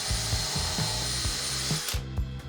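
A power drill with a 2.5mm bit pre-drills holes for glazing clips on a window seal panel, a loud high motor whine with repeated short bursts and pauses before it winds down.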